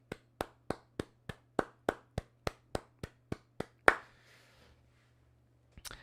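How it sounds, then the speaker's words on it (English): A single person claps about a dozen times in a steady, evenly spaced rhythm, close and crisp against a quiet room with a low hum, then stops, with one more faint clap at the end. "can we just get a round of applause for Big Pizza Pie?"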